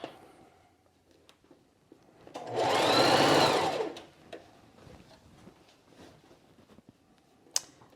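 A sewing machine runs one quick burst of stitching through a quilted jacket, close and clear, with quiet handling noises and small clicks before and after.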